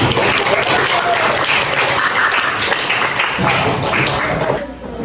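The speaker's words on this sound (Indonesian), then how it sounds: "aplaus dulu untuk kelompok 4" A room of people applauds for group 4 in a classroom presentation, a dense sustained burst of clapping that fades toward the end, with voices mixed in.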